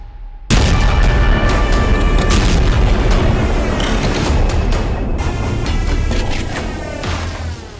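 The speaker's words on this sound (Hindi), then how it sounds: "अचानक जोरदार धमाके होते हैं।" Loud explosions from an Israeli airstrike in Doha, Qatar: a sudden heavy boom breaks in after a brief quiet and gives way to a sustained, rumbling roar that stays loud throughout with no voices.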